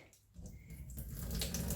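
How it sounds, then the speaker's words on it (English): Water runs from a tap into a houseplant pot, a hissing stream that builds and grows steadier and louder over a couple of seconds, close and alone with no voices. "you can fill up the top of your pot with water, and then I'll turn it off"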